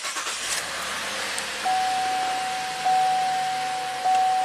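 Buick GM car with an ABS malfunction starting up: a steady broadband engine rumble fills the clip, joined partway through by a thin constant electronic tone with two soft clicks, close and moderately loud with no talking.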